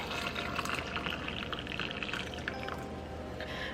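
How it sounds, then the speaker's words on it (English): Hot water pours steadily over thyme sprigs for tea, a soft, continuous splashing trickle heard up close and fairly faint throughout. "So then I'm gonna do my hot water."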